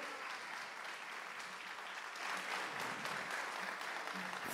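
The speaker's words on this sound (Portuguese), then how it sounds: "uma salva de palmas para os nossos astros." An audience at a stage hypnosis show gives a short, steady burst of applause for the participants, the clapping dense and fairly close throughout.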